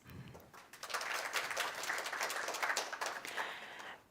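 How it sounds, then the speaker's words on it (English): Applause swells from an audience at the Deep Tech Night opening reception, dense clapping rising quickly after a brief voice and holding fairly steady, somewhat distant. "Round of applause."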